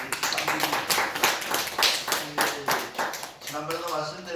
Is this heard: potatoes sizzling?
no